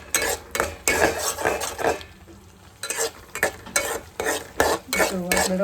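Semolina roasts in ghee in a pan for a festive sheera offering, with repeated loud spoon-against-pan stirring strokes in bursts over a soft sizzle, pausing briefly midway.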